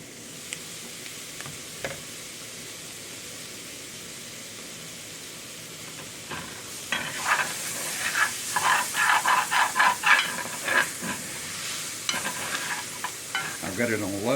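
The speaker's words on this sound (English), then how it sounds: "I want to cook it down and flavor that roux even more" Vegetables soften in a dark gumbo roux for chicken and sausage gumbo, giving a low steady sizzle that grows busier partway through as a spoon stirs and scrapes the pot in quick, repeated strokes.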